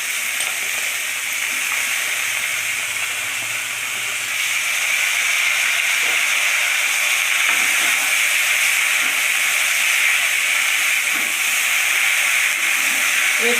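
Fish and taro stems frying in a pan with green chilies give a steady, loud broadband sizzle and hiss, continuous and even throughout with no talking.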